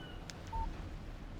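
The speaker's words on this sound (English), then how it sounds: "Text message from Barry." A short electronic text-message alert tone chimes once on a phone in the Alan Wake video game, a brief clean beep over a quiet ambient background.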